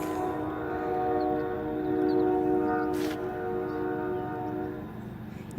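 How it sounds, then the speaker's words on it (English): A train passes somewhere beyond a desert lake, a faint, continuous rumble with steady tonal hum that swells slightly and then eases off, with no voices over it. "You can hear the train there."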